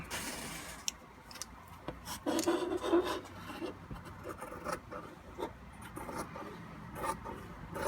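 Scissors snip and rasp through fabric as a square is cut for a doll dress, a quiet, close series of irregular cutting and rubbing strokes.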